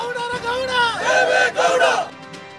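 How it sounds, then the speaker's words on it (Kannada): Party workers gathered outside Parappana Agrahara jail in Bengaluru shout slogans and cheers as a crowd, loud rhythmic group chanting with rising and falling voices over a couple of seconds. "ಘೋಷಣೆ, ಜೈಕಾರ ಜೋರಾಗಿಯೇ ಇತ್ತು."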